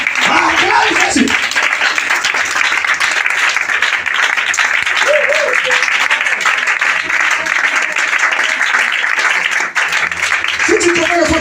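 Congregation applauding Jesus during a church service, with steady sustained clapping that fills the room for the whole stretch, along with crowd voices.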